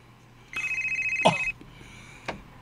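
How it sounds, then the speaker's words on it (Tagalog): A cellphone rings with a single sustained electronic tone for about a second, then a sharp click and a brief knock follow in a quiet indoor room. "Ang akong cellphone."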